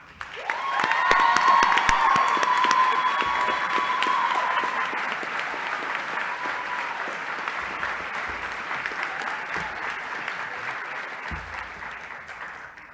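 An audience at the Columbia Climate School Class Day 2022 applauds to welcome speaker Peggy Shepard, a steady, full burst of clapping that swells early and then slowly tapers, with a few scattered cheers.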